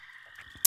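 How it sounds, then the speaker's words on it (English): Cicadas in an ambient background track give a steady, faint high-pitched drone throughout, with a brief sharp click near the end. "Listen, you hear the cicadas? I don't know what ambient track I put behind this."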